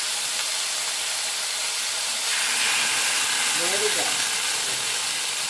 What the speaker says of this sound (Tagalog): So skin side up and we will sear till golden brown about 3 to 4 minutes.